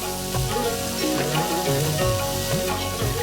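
Capsicum, French beans, carrots and peas fry in a hot pan with a steady, dense sizzle, broken by a few scraping stirs near the microphone.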